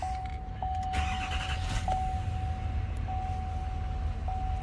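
A truck's engine starting and settling into a low steady idle, with a thin electronic chime repeating at intervals over the rumble, close and without talk.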